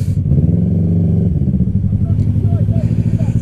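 A motorcycle with an aftermarket exhaust revs nearby, a loud, low, throbbing engine note that holds steady and then rises, with a voice talking over it.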